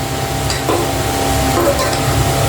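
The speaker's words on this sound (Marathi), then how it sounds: "आता ती व्यवस्थित ढवळून घेईल आणि परत ती भाजी शिजायला ठेवायची।" Raw jackfruit and prawn bhaji, Konkani style, is stirred in a hot pan. Loud, steady sizzling and frying continue throughout, with faint scraping of the spoon and no talk.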